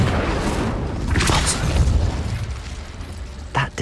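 Spell blasts from Confringo and Incendio go off in Hogwarts Legacy, a dense rumbling boom that swells across most of the clip and is followed by a sharper pop near the end.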